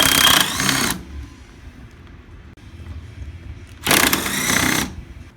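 Two bursts of a power tool remove the 9/16 bolts holding a brake caliper on a Polaris Ultra 680 snowmobile, each a loud buzzing whir of about a second, separated by a quiet pause.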